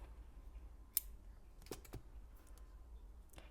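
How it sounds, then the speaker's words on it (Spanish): Scissors snip through crochet yarn after a finished amigurumi unicorn doll ring is closed, giving one sharp click followed by a couple of quieter snips in a quiet room. "Cerramos el anillo y cortamos el hilo."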